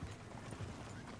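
Horse hooves clop steadily in a video game over a dense, noisy background, fairly faint and brief.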